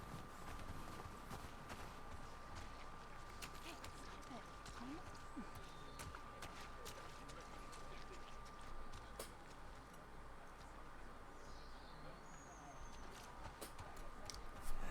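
Steady horse hoof clip-clops at a walking pace in The Last of Us Part II run throughout, with a constant low rumble and faint chirps in the background; no voices.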